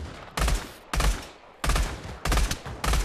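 Gunfire in the VR video game Pavlov: five loud, close bursts of rapid automatic fire, each roughly half a second long, separated by brief pauses.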